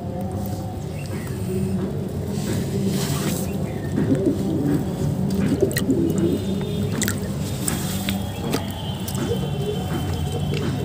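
Pigeons coo softly amid steady rustling and shuffling in a loft, a continuous low murmur of bird sounds close by with no clear talk.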